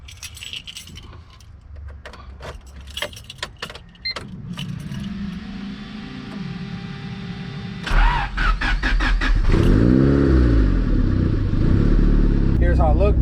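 Car engine cranking and catching into a steady idle with a rising rev, preceded by keys jangling and handling noises, while someone talks.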